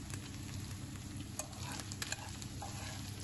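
Onions frying together with browned meat in a pan, a steady close sizzle with occasional stirring scrapes and small pops, no voices.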